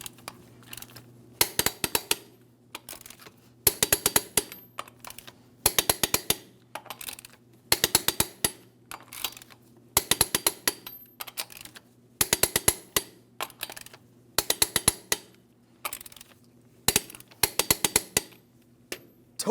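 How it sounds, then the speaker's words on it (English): A torque wrench tightens the lug nuts on a 2007-2014 GMC Sierra 2500 HD front wheel to 140 foot-pounds in a crisscross pattern. Close, crisp bursts of ratcheting clicks repeat at a steady pace, each cluster ending sharply, with quiet gaps between and no talking. "torque each of these lug nuts to 140 foot-pounds in a crisscross manner"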